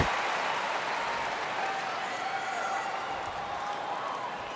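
A tennis crowd at the 2017 US Open in New York, during Federer versus Tiafoe, applauds in a broad, steady wash that fades gradually, heard from a distance and without talk.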